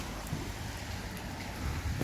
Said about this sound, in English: And it's still raining, I'm afraid.